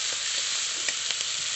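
Chopped ginger frying in hot oil, a bright continuous sizzle with a few faint spatula taps, close and even, no speech.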